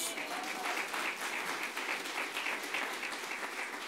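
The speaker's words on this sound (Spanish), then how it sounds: "¿Por qué no le dan un aplauso a Jesús?" A church congregation claps during a Spanish-language sermon on prudence, a full, continuous burst of applause with slight pulsing in intensity, no voices rising above it.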